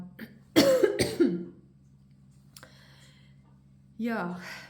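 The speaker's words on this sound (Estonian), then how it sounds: "võtab köhima" A close voice gives two or three sharp coughs in quick succession, then a pause, followed by a brief vocal sound.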